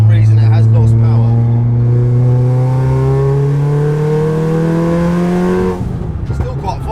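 A 700 hp VW Golf R that has lost boost accelerates hard through a gear, its engine note climbing steadily, loud and close, before the revs cut off and the car settles near the end.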